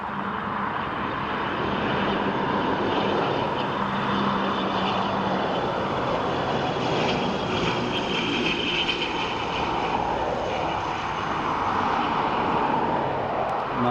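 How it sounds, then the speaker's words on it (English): An ATR 72-600 turboprop from Gatwick comes in to land at Dublin Airport, its propellers and engines giving a continuous droning roar with a buzzy tonal edge that swells slightly midway and stays loud throughout. "So, ATR coming in from Gatwick in London. ATR 72-600."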